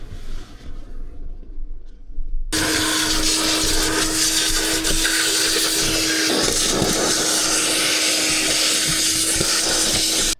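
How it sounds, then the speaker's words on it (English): A vacuum cleaner hoovers the interior of a Vauxhall VXR car, starting abruptly after a quiet moment and then running loud and steady with a whining tone and brief shifts as the nozzle moves. "Right, we need to get this out and hoover it."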